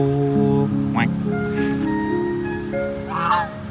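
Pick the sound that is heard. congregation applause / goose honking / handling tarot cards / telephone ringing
goose honking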